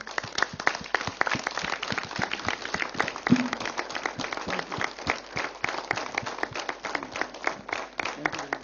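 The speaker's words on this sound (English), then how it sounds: "Please either raising your hands or clapping." A meeting audience claps after a resolution is adopted, a sparse crowd of distinct sharp hand claps in an uneven rhythm with a few louder ones, fairly close and continuing throughout.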